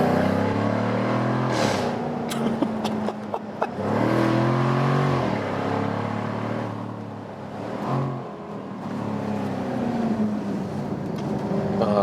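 A 2020 Jaguar F-Type V8 Cabriolet P450 R-Dynamic accelerates hard out of a corner, its engine note climbing through the revs with a deep, loud roar and a brief dip as it shifts.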